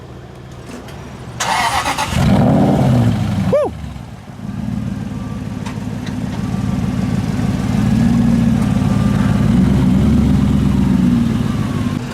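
A Mercedes-AMG C63 with de-chromed trim fires up outdoors, the starter whir giving way to a loud rising flare, then settling into a steady, rumbling idle heard from outside the car, with a brief shout near the start.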